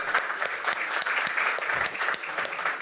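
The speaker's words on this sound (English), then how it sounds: "A huge round of applause for him as well." Audience applause honours an Amazon Web Services solution architect at a generative AI startup session, with steady, moderately loud clapping from a seated crowd lasting throughout.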